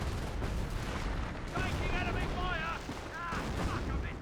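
Artillery and small-arms fire in Company of Heroes 1 rumble as a dense, continuous battle din, with explosions thudding underneath while a commentator talks over it.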